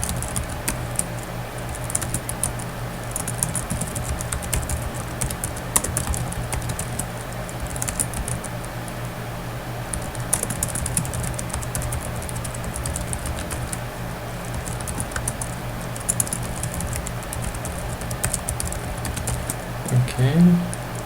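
Java code being typed on a computer keyboard, a steady patter of keystrokes running throughout at moderate loudness, with a faint hum and occasional light clicks underneath.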